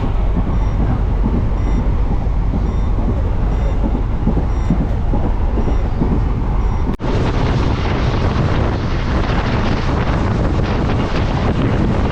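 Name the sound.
train running at high speed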